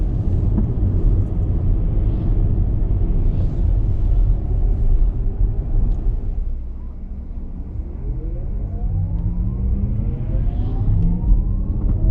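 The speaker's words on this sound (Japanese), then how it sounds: "結構この回生してる音が好きです。" A Porsche Taycan electric car brakes regeneratively on mountain roads at Hakone, its rising and falling electric whine sweeping upward in pitch in the second half over a continuous loud road rumble.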